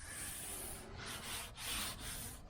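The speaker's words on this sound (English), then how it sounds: "I just sanded around these edges here. So I did it all in 80, and then I just went over lightly with 180." Sandpaper rubs by hand around the edges of a molded cowl induction hood scoop on a 1978 El Camino SS, making close, soft scratchy strokes that swell and fade in a few repeated passes.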